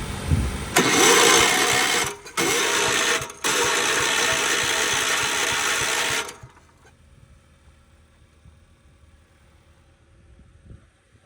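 A Ford C-Max hybrid engine cranks and catches loudly for several seconds, with two short breaks in the sound, then cuts out, leaving only faint background noise.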